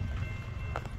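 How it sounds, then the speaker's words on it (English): A BNSF westbound intermodal freight train rumbles past in one brief, steady burst of low rolling noise, close and loud. "we got a BNSF westbound"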